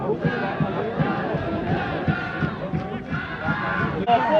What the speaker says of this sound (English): The crowd was celebrating.